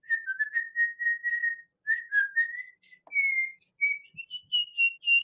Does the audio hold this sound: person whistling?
yes